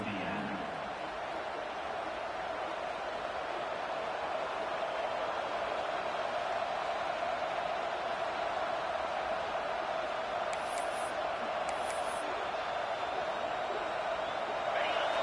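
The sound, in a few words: football stadium crowd noise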